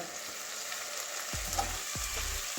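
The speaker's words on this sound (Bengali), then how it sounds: "মাঝখানে মাঝখানে নাড়িয়ে দিতে হবে কারণ ভাজা হচ্ছে" Potatoes, cauliflower and carrots frying on medium heat in a pan, a soft continuous sizzle joined near the end by two scraping stirs of a spatula, close with no voices.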